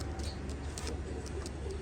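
Pakistani high flyer pigeons coo softly and repeatedly in a loft, with low, murmuring calls running steadily through the short stretch at close range.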